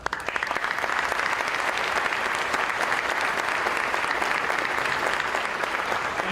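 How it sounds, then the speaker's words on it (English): Audience at a high school athletic awards ceremony applauds sponsors: a dense, steady wash of many hands clapping that swells in quickly and holds at full strength throughout. "Let's give them a round of applause."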